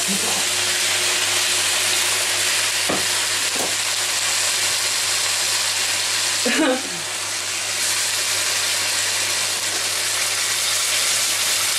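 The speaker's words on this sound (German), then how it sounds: "Und jetzt kommt einfach mal ein bisschen von der Soße noch mal dazu. Ein bisschen Flüssigkeit erstmal rüber." Teriyaki sauce hitting a hot pan of seared vegetables for a turkey roast, giving a loud, steady hiss and sizzle that carries on throughout, with a brief bubbling burst midway.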